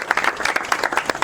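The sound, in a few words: loud applause from congregation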